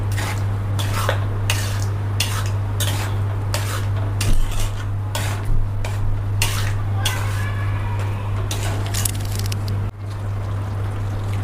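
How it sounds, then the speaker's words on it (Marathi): A spatula scrapes and knocks repeatedly against a pan as a thick pav bhaji mixture is stirred, quick metallic strokes over a constant low hum and faint sizzling, close up. "असं मिश्रण टाकून झालं की छान पावभाजी आपल्याला मिक्स करायची आहे"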